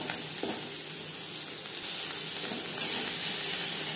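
Onions fry in oil in a pan until reddish, giving a steady, close, hissing sizzle that runs unbroken throughout, with a few faint stirring clicks.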